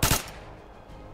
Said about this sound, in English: I heard a cool gunshot.